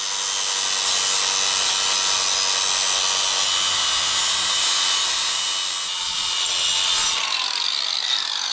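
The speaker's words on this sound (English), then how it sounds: "let me just grind these 2 fins down real quick, and we should be able to reinstall the cylinder" A power grinder grinds down two cooling fins on the engine cylinder of a Serveta Performer scooter during a rebuild, a harsh, continuous, close-up rasp lasting several seconds before cutting off.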